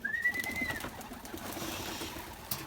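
Adana pigeons outdoors coo softly at a distance, with a brief whistle-like call early on and faint background movement, fairly quiet overall.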